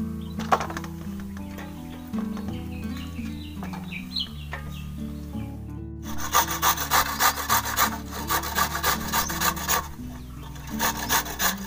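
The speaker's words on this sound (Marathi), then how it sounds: "आणि हा बघा आपला पडवळ किसून झालाय" Snake gourd is scraped on a grater, first in uneven strokes under background sounds and then in loud, rhythmic rasping passes close by.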